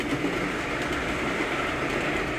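A passing train rolls by in a steady, loud rumble of rail noise that holds constant throughout, with no voices over it.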